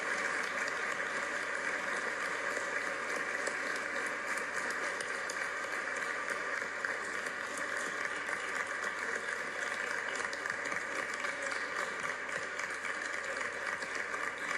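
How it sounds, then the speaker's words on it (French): An audience applauds continuously for three award recipients at a ceremony honouring an Afro-descendant woman in Quebec, a dense, even wash of clapping heard from a distance and sustained without pause. "Moi, je voudrais qu'on les applaudisse à nouveau, ces 3 récipiendaires"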